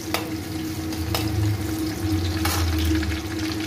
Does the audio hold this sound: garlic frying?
yes